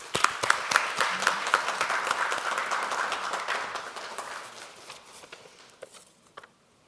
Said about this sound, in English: let us welcome her with a big round of applause